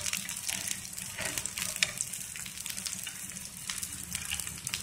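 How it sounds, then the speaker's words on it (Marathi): Aluvadi, rolled colocasia leaf slices, frying in a pan over a low flame with a steady, even sizzle and soft crackle throughout, alone without voices. "लो फ्लेमवरच आपण या वड्या भाजणार आहोत."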